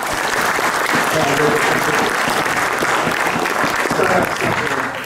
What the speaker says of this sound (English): give it a round of applause for them